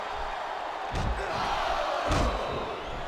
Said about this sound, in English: Listen to the crowd, JR.